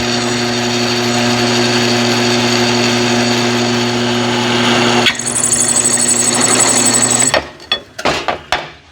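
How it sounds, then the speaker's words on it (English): A power drill whines steadily and loudly for several seconds while drilling into a broken blower housing, its pitch shifting partway through, then stops, followed by a few rattling clicks. "All right, I started drilling"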